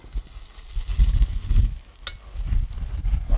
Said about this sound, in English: Now I'm going to add in a can of diced tomatoes, with juice and all.